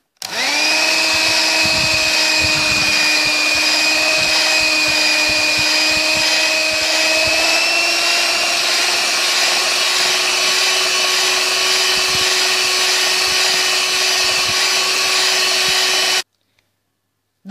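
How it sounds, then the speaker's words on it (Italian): An electric mixer whips cream for a no-bake Pan di Stelle cake, a steady whirring motor drone running close and continuous for about sixteen seconds before cutting off abruptly. "Adesso iniziamo col montare la panna."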